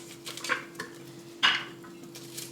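A 50-year-old, well-worn cooking pot is handled in a kitchen, giving a few quiet metallic clinks and knocks, one sharper clank in the middle, over a faint steady hum.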